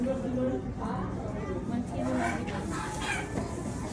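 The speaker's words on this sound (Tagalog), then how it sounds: "May native tayong manok dyan sa likod." Native chickens cluck and call softly in the background while a person talks over them.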